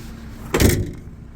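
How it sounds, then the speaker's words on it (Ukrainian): A used minibus door at an outdoor car market shuts in one solid thud with a short rattling rumble, close and loud. "дверцята закриваються"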